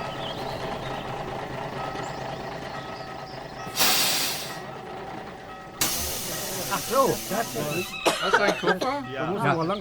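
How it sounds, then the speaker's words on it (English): A large touring coach pulls in with a low engine rumble, two sharp bursts of air-brake hiss and squealing, rattling noises as it comes to a stop. "they're making some sound recordings just as a big touring coach arrives"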